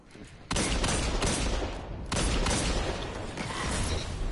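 Gunfire crackles in a video game, two loud, close bursts of rapid shots, each starting abruptly and continuing as dense rattling fire.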